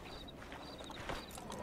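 Horse hooves in the video game Red Dead Redemption 2, faint clip-clop steps of a horse arriving, low and muffled under a steady hiss of game ambience.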